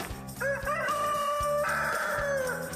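A rooster crows repeatedly with strong, rising calls during a staged indoor commercial shoot in front of a green screen, loud and close over a steady rhythmic music backing.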